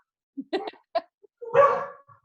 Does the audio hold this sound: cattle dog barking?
yes